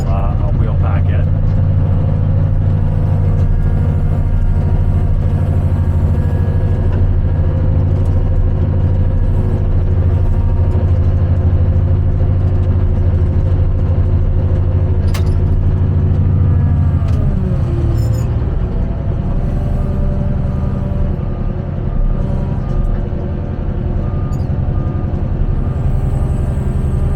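A vehicle wheel-packs 20mm gravel along a curb, its steady engine rumble close and loud throughout, with a brief crunch and shift in the low drone midway and voices talking over it.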